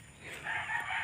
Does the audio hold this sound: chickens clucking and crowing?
yes